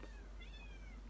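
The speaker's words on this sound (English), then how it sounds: "I've got a kitten complaining now." A kitten gives a thin, drawn-out meow, fairly quiet against a low background hum, with no talking.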